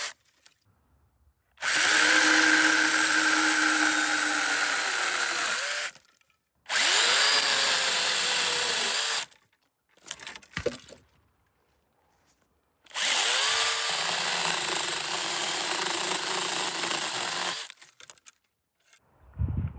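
A Saker cordless 2-in-1 pole saw and mini chainsaw cuts through dead branches in three long bursts of loud, close high-pitched whining, with clattering bits and short silences between cuts.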